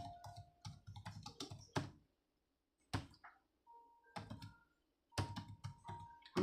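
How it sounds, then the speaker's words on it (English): Bursts of rapid clicking keystrokes on a computer keyboard come close and fairly quiet, broken by pauses of near silence between flurries of typing. "I'm really typing."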